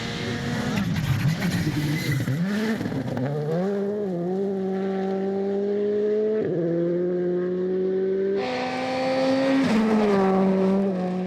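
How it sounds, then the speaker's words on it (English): A Skoda rally car engine screams at high revs, pitch climbing through gear changes, loud and continuous with road noise underneath. "You can hear he's absolutely wringing the neck of that Skoda."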